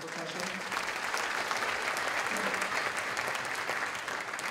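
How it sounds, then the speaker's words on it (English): Audience applause at a high school spring symphonic band concert, a steady, dense wash of many hands clapping for a percussion helper, sustained evenly throughout without talk. "So I'd like to give him a round of applause for helping us with percussion."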